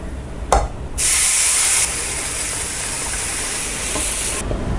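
Steady hissing and sizzling as boiling water is poured onto roasted wheat semolina in a hot pan, with a louder surge near the start that settles into a continuous bubbling hiss.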